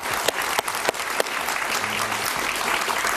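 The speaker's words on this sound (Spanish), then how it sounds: "Un aplauso para el presidente Uribe." A studio audience applauds for former Colombian president Álvaro Uribe during a televised interview, sustained loud clapping with a few sharp individual claps standing out early on.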